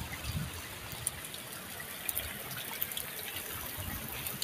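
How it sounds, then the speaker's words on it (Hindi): Heavy rain falling outdoors, a dense continuous hiss of water with a few brief knocks, no talking. "इतनी तेज बारिश है"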